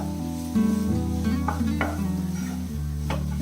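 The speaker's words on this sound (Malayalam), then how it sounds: "അപ്പൊ ഇത് നല്ല രീതിയിൽ ഇളക്കി കൊടുക്കാം" A cucumber and coconut stir-fry is stirred in a pan, with a steady sizzle and repeated scraping strokes that run without a break over a loud hum of background music.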